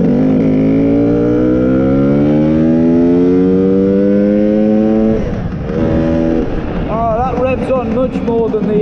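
A Lambretta Clubman scooter fitted with a BGM V4 Sport motor accelerating uphill, its two-stroke engine revving up loudly through rising pitch before easing off, then revving again, close to the rider with some speech mixed in.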